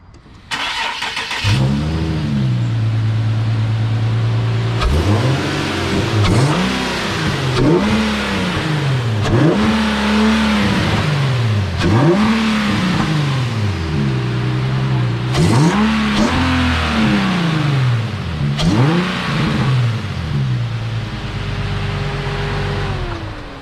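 Infiniti G37 fitted with a cold air intake starts up and revs repeatedly, its engine rising and falling in loud, close blips with intake noise, heard alone.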